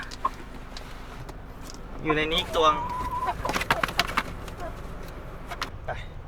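Laying hens inside a carrier give a short burst of close clucking, followed by scattered knocks and thumps, while someone talks nearby.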